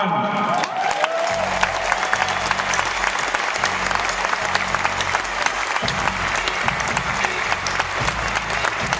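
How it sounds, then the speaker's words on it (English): A large crowd at a political event bursts into sustained, loud applause and roaring cheers that fill the room steadily from start to finish. "listening to the roar of the crowd before I came up"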